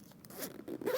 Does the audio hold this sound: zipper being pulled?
yes